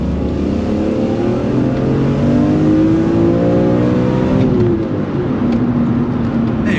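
Manual BMW E46 M3 floored in second gear, its engine climbing in a loud, rising, continuous howl close by for several seconds, then easing slightly near the end with no talk over it.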